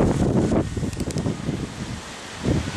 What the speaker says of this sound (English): Look at that, the wind's just blowing pretty good.